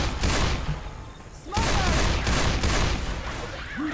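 In Left 4 Dead 2, a Beretta 9mm pistol fires rapid shots that crack loudly and close together, nearly continuous with a short lull in the middle, against a busy game background.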